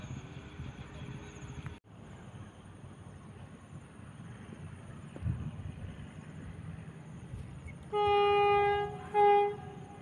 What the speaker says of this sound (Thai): ขบวนน้ำมันดิบที่629นะครับมาบตะพุดบึงพระนะครับ